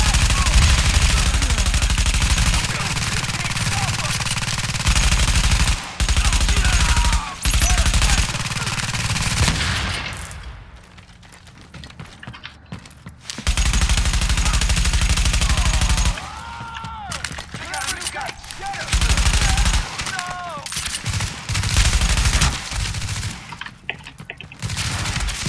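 Sustained automatic gunfire in The Division at a hard-difficulty field hospital mission, loud dense bursts running most of the way with a brief lull midway, alongside explosions and game effects.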